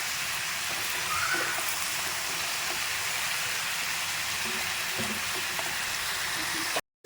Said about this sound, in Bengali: দেখো চিকেনটা রান্না হয়ে যাচ্ছে, এর মধ্যে আদা রসুন পেঁয়াজ ক্যাপসিকাম সব কুচো আছে।